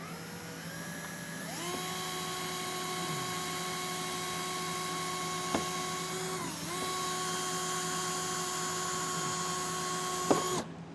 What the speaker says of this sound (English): If you just take your drill bit and work this out,